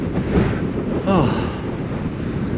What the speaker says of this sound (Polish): i wiatr w mordę, jakże cudowny.